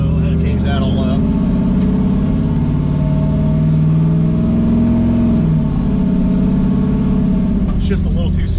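Chevrolet 5.3 V8 with a BTR Stage 4 cam, running loud and close while being tuned, with a steady lumpy idle and a short rev rise near the middle. Someone talks over it.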